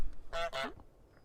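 A cartoon goose in Untitled Goose Game gives two quick loud nasal honks back to back, close and clear against near silence.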